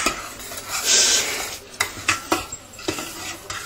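A spoon stirs and scrapes thickening sauce for mitarashi dango in a pan, first with a long rub and then with several quick, close scrapes in a rhythm.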